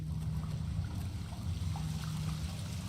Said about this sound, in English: where's that water coming from?